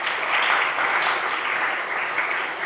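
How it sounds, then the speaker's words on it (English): An audience at a school prize-giving ceremony breaks into a round of applause, a dense, steady wash of clapping that fills the whole short stretch without voices. "Let's give them a round of applause for being here this morning."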